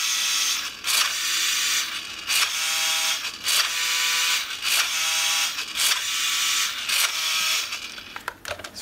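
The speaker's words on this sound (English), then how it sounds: "It's pretty loud in the steering here." The steering mechanism of an RC Bumblebee Transformers toy car grinds loudly and up close, a harsh ratcheting of gears that comes in repeated bursts and rattles briefly at the end.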